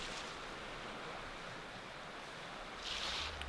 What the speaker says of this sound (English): Nice site right on the Potato River.